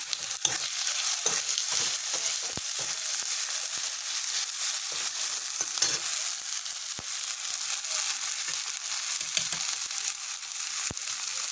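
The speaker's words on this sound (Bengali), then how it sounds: "এখন এটাকে আমি একটু কষিয়ে নেব" Ginger and green chili paste with salt sizzles steadily as it is sautéed in a pan for a vegetarian fish-style curry. A continuous hiss of frying runs throughout, broken by occasional sharp taps of a spatula, with no talking.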